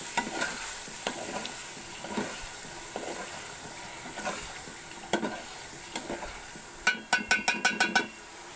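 A spoon stirs about half a kilo of potatoes and two tomatoes in a cooking pot, with scraping strokes repeating throughout and a quick run of sharp clinks near the end, no talking.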